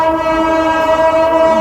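IRCTC Tejas Express train running from Lucknow to New Delhi, a loud sustained horn with steady tonal bands that holds for the whole moment.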